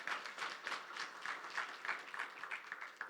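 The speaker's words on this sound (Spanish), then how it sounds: "Denle un fuerte aplauso al Señor en esta mañana." Church congregation applauding during a Christmas service, a rhythmic, fairly faint burst of many hands clapping together with a pulsing beat, with no talking over it.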